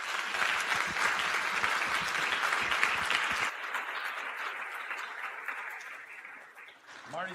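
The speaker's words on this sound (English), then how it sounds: "a round of applause for our speakers" Audience applause at a hospital talk event, a crowd clapping for the speakers that drops abruptly partway through and lingers as softer, thinner clapping with talk mixed in.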